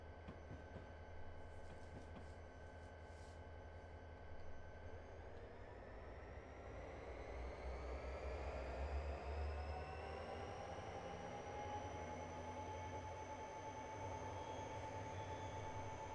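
An SD40-2 diesel locomotive in a train simulator game on Sherman Hill, its engine holding a steady, loud rumbling drone while a tonal whine slowly climbs in pitch.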